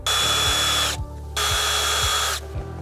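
Power tool loosening two 7mm bolts next to the OBD2 connector under the dash of a Chevrolet Suburban: two loud close whirring bursts split by a short pause, with a steady clicking ratchet beneath.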